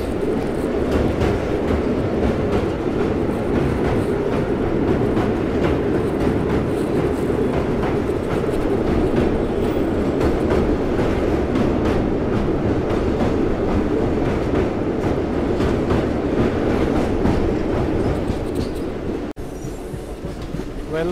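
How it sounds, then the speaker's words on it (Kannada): A Shivamogga Town to Mysuru passenger train runs steadily with a loud, continuous rumble and rattle of wagons on the rails, heard from on board with no voices over it. "ನಮ್ಮ ಶಿವಮೊಗ್ಗ ಟೌನ್ ಮೈಸೂರು ವಯ ಹಾಸನ್ ಪ್ಯಾಸೆಂಜರ್ ಟ್ರೈನ್ ಸದ್ಯಕ್ಕೆ ತಲುಪಿದೆ"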